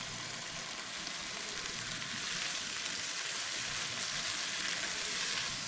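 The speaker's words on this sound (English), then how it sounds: "So I'm just going to take about 6 pods of that and pop them straight in." Garlic cloves tossed into a hot pan with wilting pak choy, sending up a steady, even sizzle and crackle of frying that holds at moderate volume with no voices.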